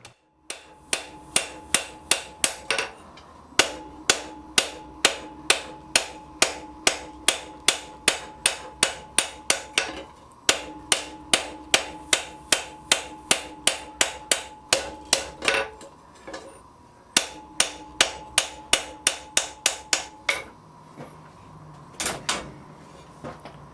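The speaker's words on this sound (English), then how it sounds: "Just gradually hammer the rivet from one side and then the other." Steady metallic hammer blows ring out in long rhythmic runs, each strike sharp and bright, with brief pauses between series, as a rivet is hammered from alternate sides on blacksmith tongs.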